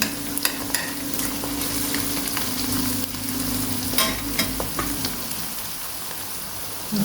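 Onions and peppers frying in a pan as tomato paste is stirred in for a dried green bean sauté, a steady close sizzle with scraping stir sounds and a few sharp clicks throughout.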